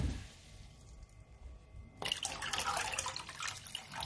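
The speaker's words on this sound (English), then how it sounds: "I will pour in more water." More water poured into a cooking pot, starting abruptly halfway through as a steady splashing gush after a quiet stretch, close and fairly loud, with no talking.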